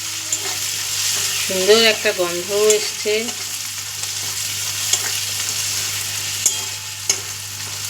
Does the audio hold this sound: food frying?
yes